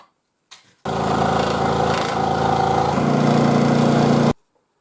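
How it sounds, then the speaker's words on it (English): A steady, loud mechanical drone of a power sander sanding plywood, running continuously for a few seconds, starting abruptly and cutting off just as suddenly, no talking. "a little bit of sanding, that's going to fit"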